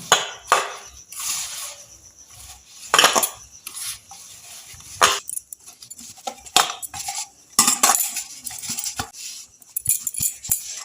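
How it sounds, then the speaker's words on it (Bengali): Crushed thin biscuits are worked by hand with thickened milk into a dough for gulab jamun, giving close clinks and scrapes of a bowl and utensil in irregular bursts, with no talking. "এবার আমি অল্প অল্প দুধ দিয়ে মেখে নেব।"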